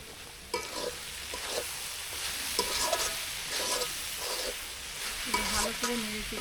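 Carrot halwa with milk powder and ghee being stirred in a pan, a steady sizzle broken by repeated scraping strokes of a spoon, close and moderately loud, with no talking.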